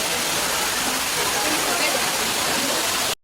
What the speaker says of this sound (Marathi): हा आहे पुढचा नेकलेस वॉटरफॉल, जो अजून एक फेमस वॉटरफॉल आहे